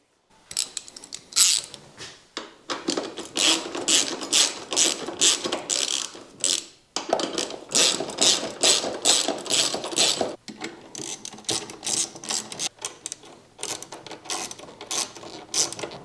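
Up close and loud, a ratchet tightens bolts on a crash bar of a 2020-2023 KTM 500 EXC-F dirt bike, rapid clicking in long repeated bursts with short pauses between strokes.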